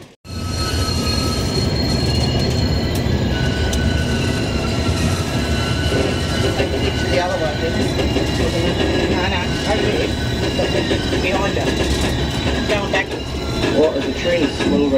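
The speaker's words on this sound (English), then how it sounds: "Well, the train is slow right now." The Rocky Mountaineer passenger train rolls slowly along the rails with a continuous close rumble, faint wheel squeal and rhythmic clicking, and a voice speaks over the running noise.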